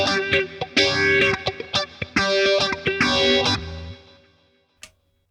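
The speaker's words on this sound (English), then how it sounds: "I've now got a phaser." An electric guitar played through a Boss Katana amp with a phaser effect gives a swirling, sweeping tone over several strummed chords and picked notes. The sound fades into a short ringing tail, with no talking.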